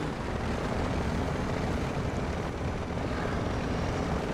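A truck engine drones in the Snowrunner video game, sounding rough and broken, with a steady, loud, dense rumble that holds evenly throughout with no talking.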